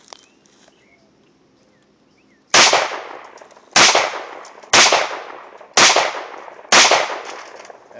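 An Astra A70 pistol fires five loud, sharp shots at roughly one-second intervals outdoors, each crack followed by a short decaying echo, after a quiet lead-in.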